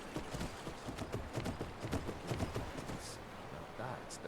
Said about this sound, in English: There's a horse in the water trying to fucking climb this, you know, on a ladder.